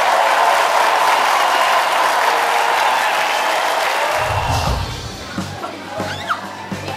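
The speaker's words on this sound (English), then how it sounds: "a huge round of applause to St Anne's Gospel Choir" Audience at a junior and senior choir final breaks into dense, loud applause for St Anne's Gospel Choir, which fills the first few seconds before thinning out as a voice begins speaking.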